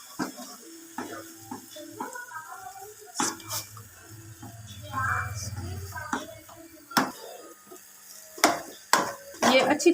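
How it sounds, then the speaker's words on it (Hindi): Spiced potato samosa filling stirred in a pan, with scattered spoon scrapes and clinks against the metal under intermittent talking, growing busier and louder toward the end. "इसको अच्छी तरह से मिक्स करना है।"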